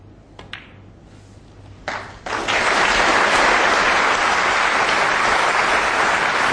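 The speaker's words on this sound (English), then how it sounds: "The applause tells you that the frame is over." A snooker crowd breaks into loud, sustained applause at the end of a World Championship 2008 semi-final frame, after a few faint taps and clicks at the start.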